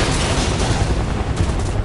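Dense, booming gunfire in a video game fills the whole short moment, a continuous loud barrage of overlapping shots with heavy low rumble.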